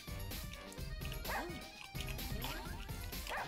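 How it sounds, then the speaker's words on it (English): A dog barks and yips repeatedly in the video game Russian Subway Dogs, set in a subway station, in short close bursts over busy game music and ambience. "You just run around, you bark to try to get people to drop their food"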